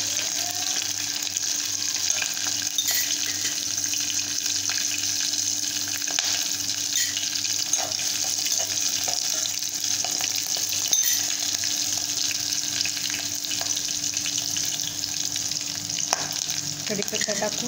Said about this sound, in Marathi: मिरच्या अशा भाजून घ्यायच्या तेलामध्ये